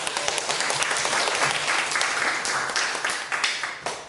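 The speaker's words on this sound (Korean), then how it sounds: "박수로 엄청난 환호성 소리나는데" Applause and cheering from a studio audience at a live public broadcast as a guest is brought on, a dense, continuous roll of clapping from a large crowd, loud and sustained before trailing off.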